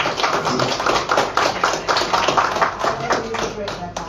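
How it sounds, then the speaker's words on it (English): During a live-streamed gathering, an audience gives a speaker another round of applause, a loud, rapid patter of many hands tapping and clapping that continues steadily, with voices mixed in beneath. "can we just give her another round of applause?"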